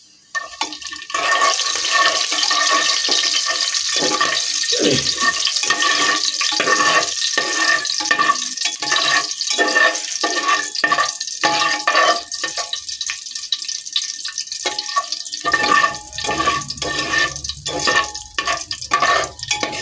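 Whole spices and a bay leaf frying in white oil in a pan while being stirred, giving a steady, loud sizzling hiss with scraping stir sounds throughout and no talk.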